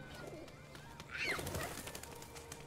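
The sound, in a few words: pigeons cooing in video game Detroit: Become Human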